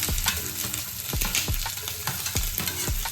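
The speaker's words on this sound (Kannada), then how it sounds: "ಇದನ್ನೆಲ್ಲ ಚೆನ್ನಾಗಿ ಫ್ರೈ ಮಾಡೋಣ." Spices for aloo sagu sizzle loudly in a hot pan as a spoon stirs in a regular rhythm, with repeated scraping strokes against the metal over a steady hiss; no voices.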